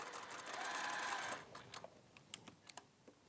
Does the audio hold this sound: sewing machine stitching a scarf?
yes